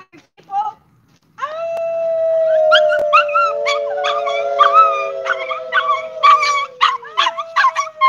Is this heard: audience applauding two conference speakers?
no